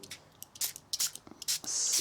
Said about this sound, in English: I'm going to spray some water on it